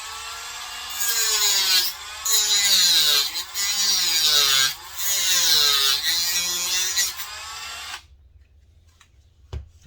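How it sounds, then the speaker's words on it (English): Dremel rotary tool cutting a small notch in a plastic radio tray for an HB Racing RC car, a loud high whine in three close bursts with brief dips, then stopping abruptly before a quiet tail. "So I have to cut a little notch right here. So do that with a Dremel."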